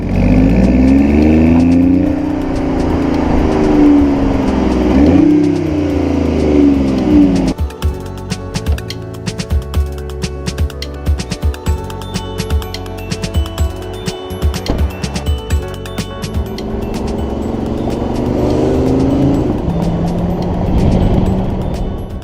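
The 1.5-liter inline three-cylinder engine of a 2017 BMW i8 revs up and down loudly nearby, then settles into a rough, pulsing idle before climbing again; no talking.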